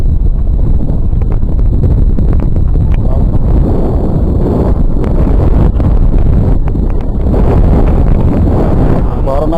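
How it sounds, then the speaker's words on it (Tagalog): Strong wind roars and buffets the microphone in a loud, continuous rush with gusty surges throughout, and no other clear sound stands out. "Pagkakalakas ng hangin."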